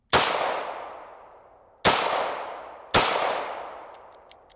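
Three loud, sharp gunshots from surplus ammunition firing slower, heavier bullets, spaced about a second apart, each with a long decaying echo that rings out before the next.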